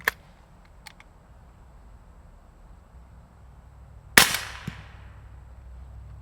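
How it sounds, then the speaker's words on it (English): A Wolfpack Armory Disruptor 36L airgun fires with a sharp, short crack, followed by a faint smack of the pellet striking downrange; a few small clicks come earlier against quiet outdoor background. "you can hear the bullet smacking down range, but it's still got a little bit of a noise to it"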